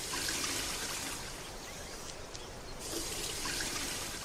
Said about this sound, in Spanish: Luego comienza a extraer el agua con la bomba.